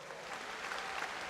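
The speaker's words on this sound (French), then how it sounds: "Veuillez l'applaudir très fort." Faint, steady audience applause at an RTI 'Bonjour 2017' broadcast event, a dense wash of clapping that carries through the whole brief moment without speech.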